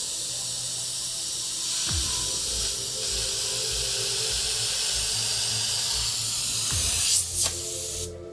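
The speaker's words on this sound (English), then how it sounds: "Your trigger's moving in towards the front of your color cup or to the front of the airbrush as you finish off and taper off that stroke." An airbrush sprays paint in a continuous close hiss while painting a dagger stroke. Faint clicks come from the trigger, and the spray briefly swells and tapers near the end.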